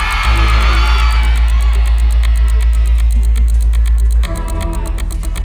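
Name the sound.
audience shouting their answer on a dance show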